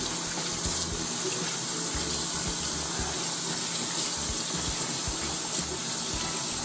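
Very hot water runs steadily from a kitchen tap into a sink while a beef brisket is being washed, a continuous close splashing rush with no voices.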